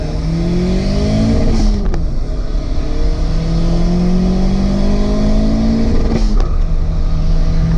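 A turbocharged car carrying two people revs up loudly and climbs through the gears, with two short breaks in between as it keeps accelerating close by.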